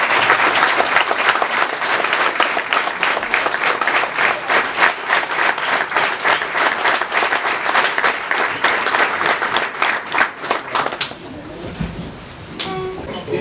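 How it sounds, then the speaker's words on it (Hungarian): Sustained audience applause at a school year-end performance, dense steady clapping that fills most of the clip before thinning out near the end, with a few faint voices and tones emerging as it fades. "Egy nagy tapsot nekik!"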